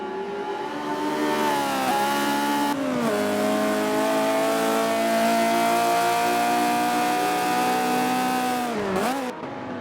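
A Mercedes race car in the Forza racing game holds a loud, sustained high engine note that climbs through the gears with brief drops at shifts, close and continuous with no talking.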